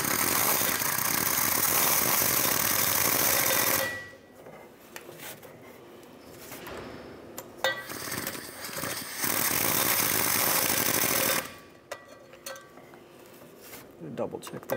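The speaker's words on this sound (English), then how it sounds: "I'm gonna use my air gun, but I will be very gentle" Pneumatic air gun run in short, gentle bursts while tightening catalytic converter bolts on a 2013-2019 Ford Escape: a loud broadband whir for the first four seconds, then shorter bursts with pauses of quiet shop noise.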